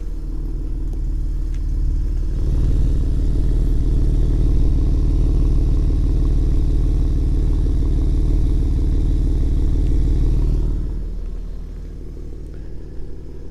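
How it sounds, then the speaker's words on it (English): A steady, deep exhaust rumble from an idling V6 pickup truck engine, swelling briefly louder, then settling back to a lower idle. "of the exhaust here, which sounds a little bit better on the Shelby."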